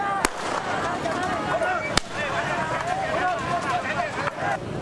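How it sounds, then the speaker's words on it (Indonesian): Police gunshots fired into the air to break up a clash between a motorcycle gang and residents in a Makassar neighbourhood, two sharp loud cracks over a noisy crowd with shouting voices throughout. "Petugas bahkan harus melepaskan tembakan ke udara berkali-kali."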